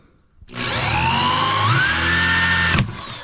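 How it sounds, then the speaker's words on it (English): A power drill whines steadily into brass for about two seconds, pitch climbing slightly, close and loud, then stops abruptly. "I'm about to get a lesson about drilling into brass."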